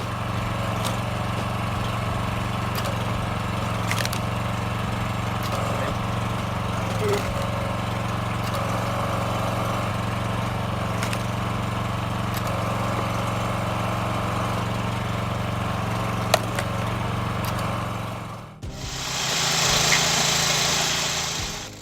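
A homemade automatic firewood processing machine with a hydraulic splitter and up to 12 tons of piston force, running with a steady engine drone, then an abrupt change to a harsher, higher-pitched buzz near the end.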